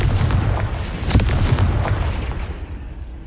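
A Confringo blasting spell going off in the Hogwarts Legacy video game, heard as a loud, booming explosion with crackling bursts that rolls on and slowly fades, with no talking over it.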